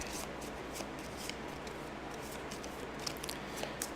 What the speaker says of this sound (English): put a new card in the deck, shuffle it up